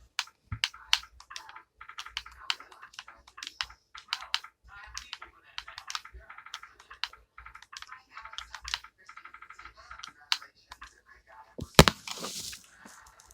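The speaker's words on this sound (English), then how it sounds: "that means I'm typing in my Roblox password." Quick, light keystrokes on a computer keyboard while a Roblox password is typed, irregular bursts of soft clicks close by, with a brief louder clatter near the end.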